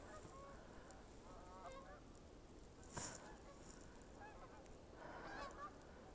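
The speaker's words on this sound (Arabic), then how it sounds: "سامعين طيور المهاجرة." Geese migrating south from Canada honk overhead on a bright, windy, bitterly cold February day, several calls rising and falling in bursts with one sharp, loud honk in the middle over a steady wind roar.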